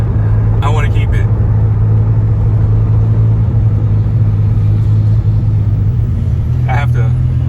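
A Dodge Viper sports car idles at around 1500 RPM with a deep, steady low rumble that holds constant throughout, close and loud, while a brief voice and small sounds break in near the start and end.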